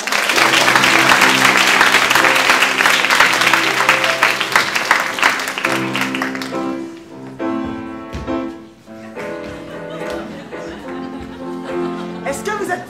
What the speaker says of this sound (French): On applaudit Cyril qui est papa.